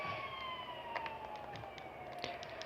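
A faint police siren in the video game GTA 5 slowly sweeps downward in pitch, distant and continuous, with a few soft clicks and knocks over a low background rumble.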